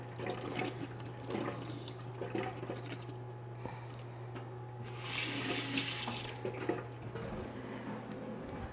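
Tap water runs into a kitchen sink, rinsing drained canned vegetables, with a soft, fairly quiet splashing flow that swells louder near the end under a constant low hum.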